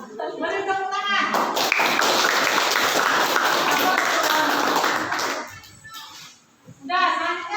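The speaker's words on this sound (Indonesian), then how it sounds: "boleh tepuk tangan" A classroom group claps together for about four seconds during a teaching session, loud and dense, bracketed by a teacher's speech before and after.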